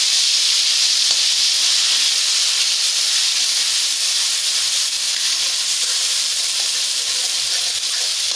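A spice paste of tomato, green chili, ginger, garlic and coriander leaves sizzles loudly and steadily in a hot pan for fish curry, a dense continuous hiss with no voices.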